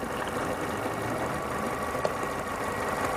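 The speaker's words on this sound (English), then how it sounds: "You hear the idle going down?" Car engine idling with a vacuum leak while soapy water is sprayed around the intake manifold, a steady rumbling drone with a faint ticking texture, continuous and close, with no talk.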